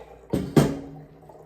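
Fresh milk from a Jersey cow is poured into a pot with two quick splashes close by, the second louder, each trailing off into a brief fading slosh.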